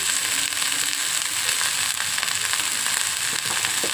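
Boiled grated cabbage sizzles and fries steadily in a hot pan for Andhra-style cabbage dal curry, a continuous close crackle with no talking.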